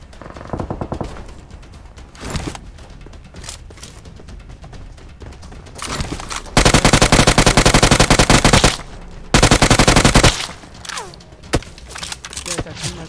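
Bursts of rapid automatic gunfire in PUBG Mobile, with dense sustained volleys and scattered single shots, loud and close, mixed with game noise and someone talking.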